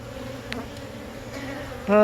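Honey bee colony buzzing in an open hive, a low steady hum with a brief louder buzz at the end as a bee passes close.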